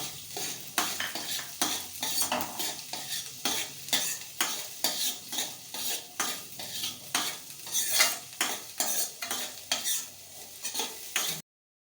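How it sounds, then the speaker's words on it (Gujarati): Chopped chili and corn kernels sautéing in a hot pan, with steady rhythmic scraping strokes of a spoon stirring against the metal over a continuous sizzle, close and fairly loud with no talking. "આ મરચું છે એ નાખી દઈશું અને 2-3 મિનિટ આપણે સાતળશું"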